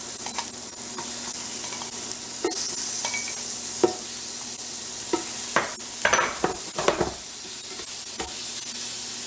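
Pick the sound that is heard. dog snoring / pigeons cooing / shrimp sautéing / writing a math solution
shrimp sautéing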